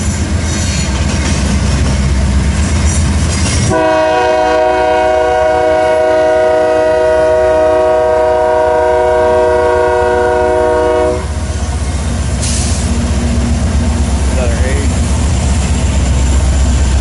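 BNSF freight train horn sounding loud and sustained for several seconds, layered over rumbling rail noise and passing wagons near a yard on the Sioux City subdivision heading into Omaha.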